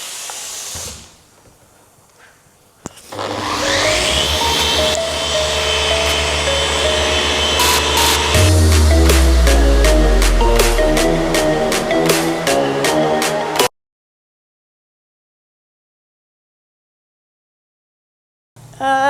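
A machine polisher works the paint of a Porsche, a steady loud whirring drone that holds for several seconds, shifts pitch as it runs, then cuts off abruptly into silence.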